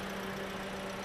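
Toyota Calya engine idling with a light ticking rattle, a steady close hum with fine clicking in a quiet setting.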